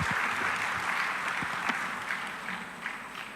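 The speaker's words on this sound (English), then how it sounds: "Please make her welcome with a round of applause." An audience at a fintech summit panel session gives a steady round of applause, a continuous wash of many hands clapping, moderate in level and heard on its own.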